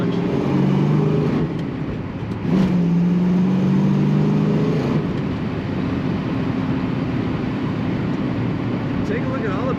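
A 1974 Pontiac Trans Am rumbles steadily while driving, its engine note continuous under a voice speaking throughout, with a brief swell in revs midway.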